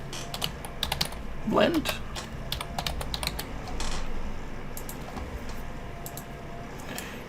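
Fast, light typing on a computer keyboard, with irregular bursts of clicks, close and soft, while a voice briefly speaks.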